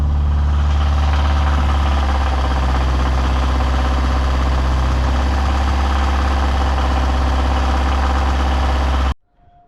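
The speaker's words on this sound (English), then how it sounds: "You guys can hear the slap, or it's like something is loose inside the engine" A Scion FR-S car's 1JZ-GTE VVTi engine idles steadily and loudly nearby, its low rumble carrying a rapid, loose slapping knock throughout, then cuts off abruptly at the end.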